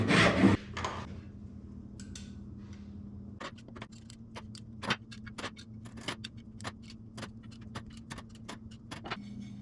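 Wooden splines for picture frame miters are cut with hand tools only; a brief louder rasp opens, then steady, close, rhythmic short strokes follow.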